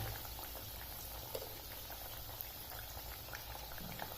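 Urad dal papad vadis fry in hot oil, giving a steady, soft bubbling sizzle with faint scattered crackles throughout, fairly quiet and continuous.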